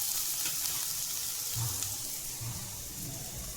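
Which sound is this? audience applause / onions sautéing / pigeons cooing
onions sautéing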